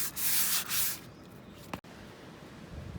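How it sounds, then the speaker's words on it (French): A leather steering wheel is hand-sanded with a few close, raspy rubbing strokes, then a brief knock and quieter handling noise. "donc en fait j'ai bien tout poncé avec ça"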